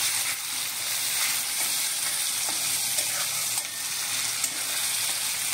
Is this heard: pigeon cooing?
no